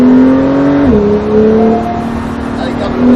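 Porsche 911 Carrera S engine pulling hard on the Nogaro circuit, a steady tonal whine that dips briefly as the gear or throttle changes, then climbs again, heard from inside the car with an instructor talking over it.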